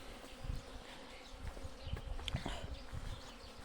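Honey bees flying around hives at an apiary, a steady close buzzing drone with several louder individual bees passing near, continuous throughout.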